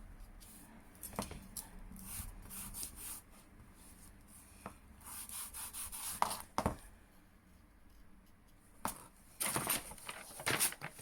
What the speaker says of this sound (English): a couple of sharpening strokes each side. It sounds like I'm pushing into the stone, but that's just because it's so coarse.